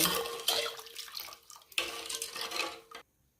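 Water is poured into a wide pan to make sugar syrup for gulab jamun, a close splashing pour in two bursts with a metallic pot clink, then silence.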